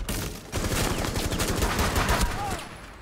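Rapid bursts of gunfire in a realistic hard-mode terrorist hunt game, dense repeated shots filling nearly the whole stretch after a brief quieter start.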